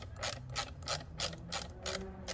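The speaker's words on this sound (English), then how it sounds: "So you got a screwdriver. It says eliminate. Take this screw out." A screwdriver backing a screw out of a Toyota Tacoma during fog light installation, heard as a series of close, evenly spaced ratcheting clicks, about six in quick rhythm.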